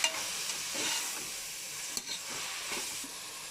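Mushrooms frying in a pan with tomato, green chili, coriander and mint, giving a steady close sizzle and hiss with a few stirring scrapes and clicks throughout.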